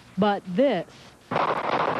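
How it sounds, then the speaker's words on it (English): Gunfire erupts in a parking lot at night: a rapid, crackling burst of many shots sounds at a distance right after a brief spoken voice. "that's the sound of gunfire."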